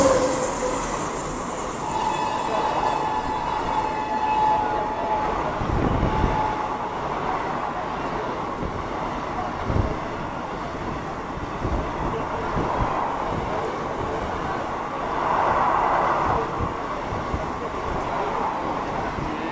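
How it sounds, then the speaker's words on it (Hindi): Passenger express train overtaking another on an Indian railway line, a steady rumbling roar of passing carriages with wheel clatter, rhythmic thumps, a brief squeal and wind buffeting, close and sustained throughout. "अब ये देखो कोई तो ट्रेन आ रही है, हमें ओवरटेक कर रही है यहाँ पे।"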